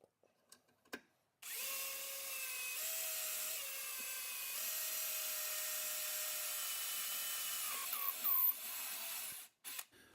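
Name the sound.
drill boring through metal stock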